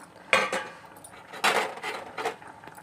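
A metal lid clinks and clatters as it lifts off a pot of boiling egg curry, three short sharp knocks spaced apart, close and fairly quiet.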